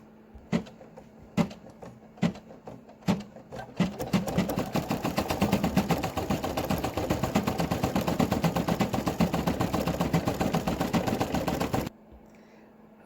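A Brother PE800 embroidery machine stitches a dot pattern up close. A few separate mechanical clicks come first, then a rapid, even run of stitching rattles continuously for about eight seconds and stops abruptly.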